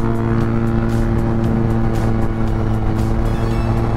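A 94cc RC1 motorcycle is ridden at about 85 mph, a loud, continuous high-revving engine whine with steady wind rush, close and constant throughout.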